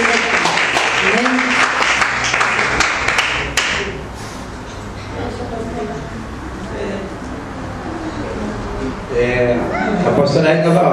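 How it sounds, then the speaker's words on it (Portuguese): A church congregation applauds, dense clapping that fills the space and fades out midway, then speech carries on with a few louder swells. "Então vamos dar um lindo aplauso ao Senhor"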